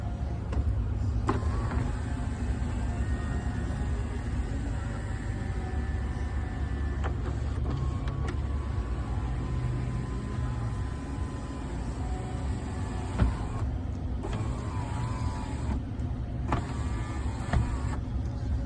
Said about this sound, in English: The controls for your sunroof are here.